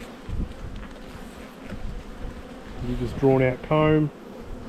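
Honey bees at an open hive, with a faint continuous buzz in the background as someone talks close by and a few louder tonal hums sound near the end.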